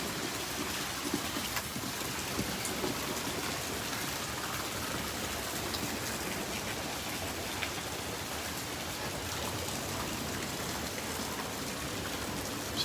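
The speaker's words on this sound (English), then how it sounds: "It's right on the edge of the rain here." Steady rain falls and patters on surfaces at a beach, a dense, even hiss that continues without pause.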